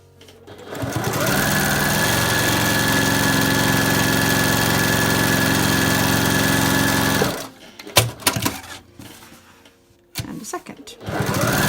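A sewing machine stitching a channel on a late Victorian, early Edwardian lapped seam corset, a loud, steady mechanical whir running for several seconds, then stopping, followed by close handling knocks and rustles.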